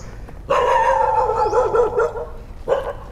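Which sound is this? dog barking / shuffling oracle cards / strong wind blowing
dog barking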